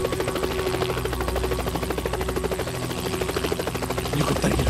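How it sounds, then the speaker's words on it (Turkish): Helicopter in a war drama scene, steady loud rhythmic rotor chop throbbing throughout without a break, close and dominant with no speech over it. "Helikopter geliyor."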